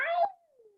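A storyteller's voice imitating a cat's meow, a single drawn-out falling note, close and clear.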